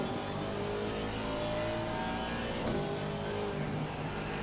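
A race car engine at Paul Ricard in a racing video game drones steadily at high revs down the straight, a dense continuous mechanical roar with slight pitch shifts, no voices over it.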